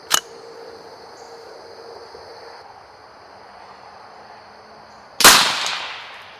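A Bear Creek BC-202 .22 WMR rifle in 10/22 style fires a Remington Premier Magnum 33-grain AccuTip round: a brief sharp crack at the start, then a loud close report with a ringing decay near the end. No one talks.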